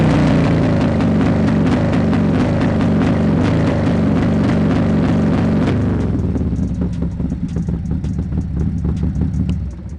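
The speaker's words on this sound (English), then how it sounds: "Let me let you hear the two-step. All right, it's gonna rev up and then it's gonna hold" A 2024 Harley-Davidson Road Glide V-twin revs hard on a two-step limiter, holding a loud, steady crackling rumble up close before the revs drop away near the end, with no talk.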